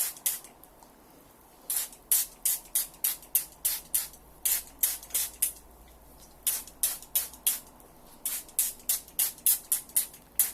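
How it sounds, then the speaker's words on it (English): Aloe vera juice sprayed from a pump bottle onto curly hair during a wash day routine: quick, sharp, close hissing spritzes in rapid bursts, pausing briefly between runs over a faint low hum. "get it all moisturized, all wet with your aloe vera juice"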